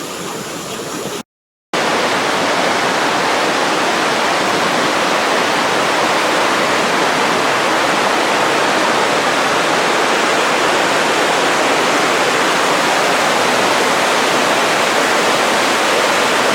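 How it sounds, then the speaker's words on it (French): A steady, loud roar of rushing water from a waterfall passing under a rock in a Dominican Republic canyon, continuous broadband noise with a brief dropout near the start. "Et là vous avez la cascade passe sous le rocher."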